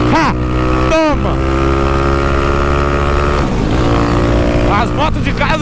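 A Honda Today motorcycle engine revs hard at full throttle during a wheelie, a loud sustained whine with sweeping pitch climbs and drops, close and continuous.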